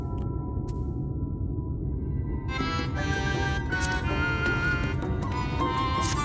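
Zone ambience from Final Fantasy XIV: Shadowbringers, in an area flooded with light: sustained tonal drones that swell into a brighter, shimmering layer of bell-like tones about halfway through, steady and continuous, with no talking.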